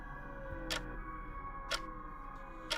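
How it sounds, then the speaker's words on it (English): A grandfather clock ticks steadily in an indoor space at an airport, three crisp, evenly spaced ticks about a second apart over a low steady hum. "That ticking noise is just so calming as well."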